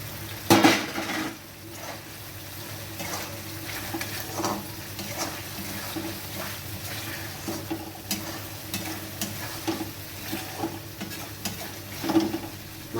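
Pieces of katla fish go into a hot, oily white gravy in a pan, setting off a steady sizzle of frying broken by scraping stirs and clinks of a utensil against the pan.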